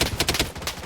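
Quick rapid gunfire from the Blood Strike shooter game, a short burst of sharp cracks in tight succession, fairly faint and alone.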